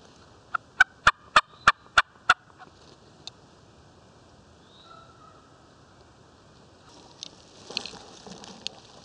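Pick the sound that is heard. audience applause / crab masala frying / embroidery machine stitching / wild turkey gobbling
wild turkey gobbling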